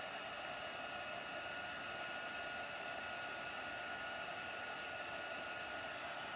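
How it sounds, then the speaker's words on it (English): A heat tool blowing steadily while heat embossing a stamped card, a constant faint whooshing hiss with a fan whine, unbroken and with no voices. "So I'm just heating this up with a heat tool."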